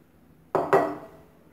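Two quick clinks of a spoon or utensil against a bowl while sandwich vegetable filling is mixed, close and fairly loud, then fading into quiet.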